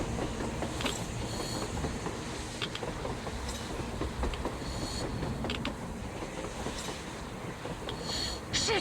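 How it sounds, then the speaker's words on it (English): A train passes on the surface in the game Metro Exodus, giving a rumbling, rattling roll with scattered metallic clanks and creaks, moderately loud and steady over about nine seconds with no speech. "A train! A damn train on the surface!"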